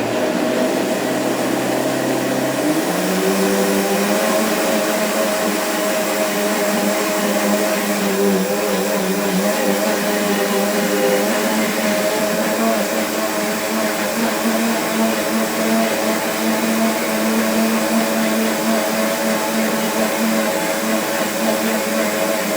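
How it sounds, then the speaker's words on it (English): A heavy duty blender whirs loudly and continuously as it blends a popsicle mixture, its motor pitch rising after a few seconds and then holding steady. "We'll blend this."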